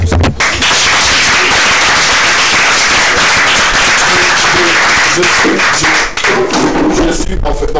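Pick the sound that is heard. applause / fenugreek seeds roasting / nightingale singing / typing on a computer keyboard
applause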